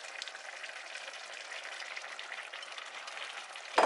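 Seafood pasta noodles go into a hot pan and sizzle with a steady, crackling frying hiss that stays constant and fairly soft, ending in a sudden clunk.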